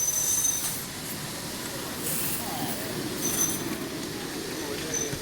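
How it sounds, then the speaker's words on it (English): The Royal Train rolls past on its circuit with locomotive 3819 assisting at the rear, giving a steady rumble of wheels on rail with faint high squeals. Voices can be heard faintly underneath. "the Royal Train's doing its circuit, assisted by 3819 in the rear."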